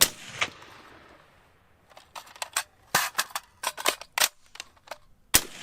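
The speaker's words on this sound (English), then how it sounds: "No, you just fucking send rounds downrange." Bullpup rifle fire in sharp cracks: one loud shot, then after a pause a run of quick irregular shots and a final crack, with no talk.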